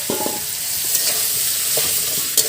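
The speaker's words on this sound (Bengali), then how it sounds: "ভেজে রাখা আলু আর পেঁপেগুলো দিয়ে দেব।" Fried potatoes and papaya are stirred into spice paste in a pan in a Bangladeshi village kitchen, crackling with a steady close sizzle and occasional scraping stirs.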